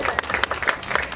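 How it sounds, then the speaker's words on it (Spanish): Brief burst of guests clapping for the godparents at a Peruvian family celebration, dense and fairly close with no voices over it. "Un voto de aplausos también para ellos."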